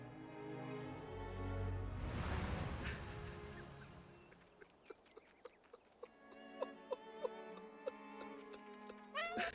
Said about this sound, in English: Eine Katze.